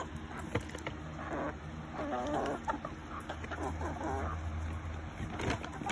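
Hens clucking inside a backyard chicken coop, a steady mix of soft clucks and calls close by over a constant low hum, with no talking.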